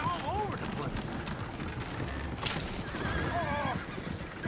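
Horses in Red Dead Redemption 2 whinny loudly several times over hooves galloping with a coach, a busy, close outdoor scene throughout.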